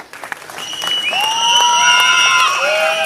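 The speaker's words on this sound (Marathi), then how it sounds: "टाळ्या वाजवा यांच्यासाठी." A crowd applauds at a political felicitation gathering, with loud, dense clapping that builds and holds, while bright whistling tones rise over it.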